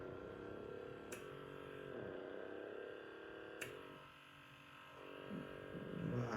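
Small electric suction beauty device for facial skin hums steadily at close range, with a low mechanical drone and a couple of faint clicks.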